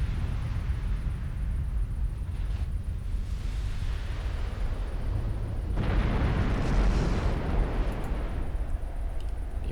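Heavy naval 13-inch guns firing in the warship game Ultimate Admiral Dreadnoughts, a continuous low rumbling roar of booms with a stronger surge of blasts partway through, loud and unbroken, with no talking.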